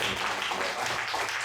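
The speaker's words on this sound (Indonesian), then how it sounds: "sekali lagi boleh tepuk tangan buat Om Salih." Audience clapping for Om Salih at a Borobudur Vesak retreat session, a short burst of steady, dense applause throughout.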